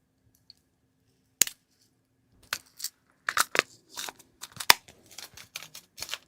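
Cutters snip a small length of fine chain for a Warhammer Soulblight Gravelords Deadwalker zombie miniature, heard as sharp, close clicks and small metallic crunches in a quiet room, one isolated snip then a scattered cluster of faint taps.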